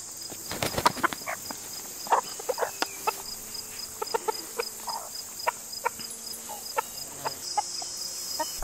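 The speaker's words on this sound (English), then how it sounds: "So let's give the chickens some leftovers." Chickens on a small homestead cluck in short scattered bursts close by, with faint insect chirping and a thin hiss in the background.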